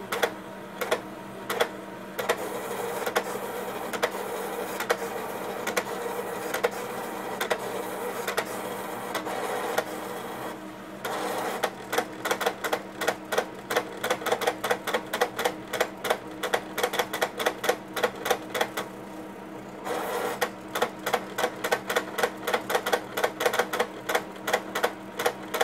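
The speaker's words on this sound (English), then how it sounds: "the plotter will now draw the graticule and any on-screen readouts" An HP plotter connected to an HP 853A spectrum analyzer draws a graticule, giving off a steady mechanical whir. Rapid clicking pen strokes come in bursts and then settle into a fast regular ticking, close and fairly quiet, with no talking.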